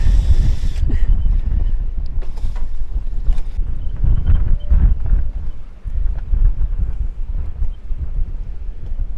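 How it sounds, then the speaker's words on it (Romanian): Strong 30-knot wind roars and gusts across the microphone aboard a boat near La Maddalena, with creaks and knocks underneath, loud and continuous. "E un vânt de 30 de noduri."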